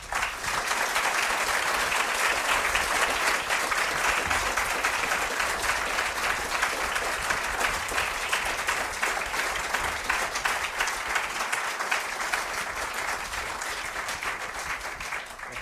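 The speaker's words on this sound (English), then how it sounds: "if you'd like to join me in an applause" Sustained applause from a lecture audience, a dense even wash of many hands clapping for about fifteen seconds and slowly thinning toward the end.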